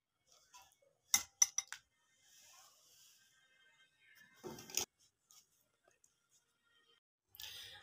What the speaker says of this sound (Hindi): तो अब मैं इसको डिश आउट करती हूँ।